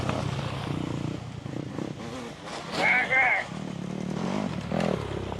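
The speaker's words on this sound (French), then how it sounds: "Il ajoute un peu d'accélérateur et saute par-dessus un petit rocher." A motocross bike on an off-road trail revs up under throttle and pops over a small rock, the engine rising and falling with a brief clatter, while a voice talks over it.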